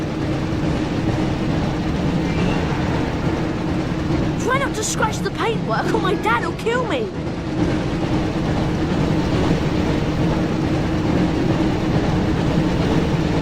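A steady, loud rumble of the Hogwarts Express runs throughout this scene from the Harry Potter and the Chamber of Secrets video game, with a character briefly speaking over it midway.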